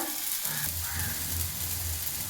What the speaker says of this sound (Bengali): মশলা ভালোভাবে কষিয়ে নেব